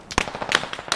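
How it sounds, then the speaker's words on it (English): Gunshots ring out in a tactical military shooter game: a quick scatter of sharp pops, a few loud bangs among softer, more distant cracks, all within about a second. "What were you shooting, Scrooby?"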